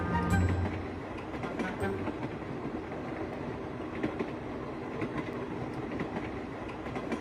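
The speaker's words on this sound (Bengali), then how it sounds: "আর ট্রেনটা আরও গতি বাড়িয়ে ছুটে চলেছে মুর্শিদাবাদের দিকে।" Train running fast as a sound effect, a steady rumbling roll with rhythmic clickety-clack of wheels over rail joints, moderately quiet and continuous throughout.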